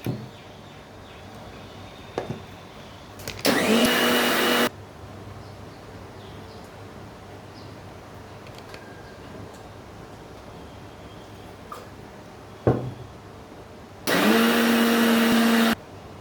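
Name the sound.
mixer grinder grinding masala paste finely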